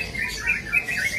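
Songbirds at a bird-song competition in Jakarta give continuous high chirps and trills, a steady overlapping chorus at moderate volume with no talk.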